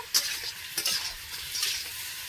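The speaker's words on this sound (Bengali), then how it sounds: "আর এই লবণ দেওয়ার পরে কিন্তু হালকা একটু নেড়ে দেব।" Tomatoes and salt being stirred in a frying pan, heard as close, repeated scraping strokes over a continuous sizzle of frying, with no voices.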